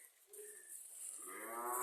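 A single low moo from a Holstein Friesian dairy cow on a farm, rising and swelling, fairly close, with a faint high hiss in the background.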